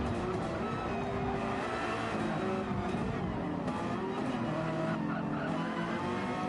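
Race car in the Ultimate Racing League video game roaring at a steady high rev with tyre skids and scrubbing as it slides, loud and continuous with no talking.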